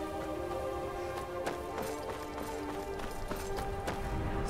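Rapid, steady hoofbeats of a galloping horse in the video game Skyrim Special Edition over a constant background hum, with sharp thuds recurring in a quick rhythm throughout.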